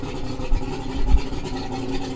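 A boat's outboard motor, started after sitting unused for a few months, runs at a low, steady rumble with slight pulsing, moderately loud and close, with no talking.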